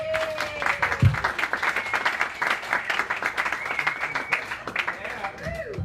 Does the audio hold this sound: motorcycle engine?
no